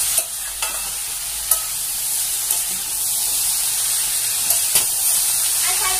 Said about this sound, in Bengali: এবার ভালো করে আর একটু নেড়ে নিচ্ছি